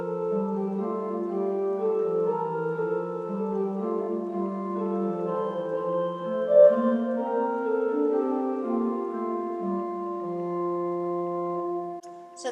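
Pipe organ plays a two-voice imitative passage from hymn tune variations on Come, Thou Almighty King, the right hand's melody answered by the left; steady sustained tones continue alone for about twelve seconds with no talking.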